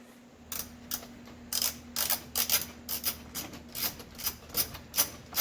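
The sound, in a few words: socket wrench loosening a 5/8 bolt on headlight switch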